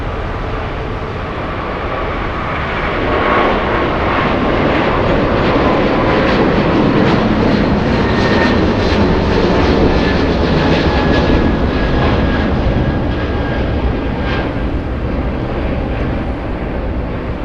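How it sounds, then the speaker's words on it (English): A JetBlue airliner takes off at LAX, its loud jet engine roar building and sustained throughout, heard fairly close and alone without talk. "We just saw JetBlue take off."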